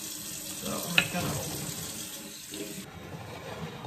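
Lukewarm tap water runs from a faucet into a bowl to dissolve yeast for pizza dough, a steady splashing pour filling the whole short stretch at close range with no talking.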